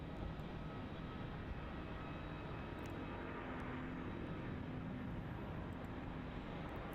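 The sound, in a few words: Airbus A350-900 rolling down runway 34, Melbourne Airport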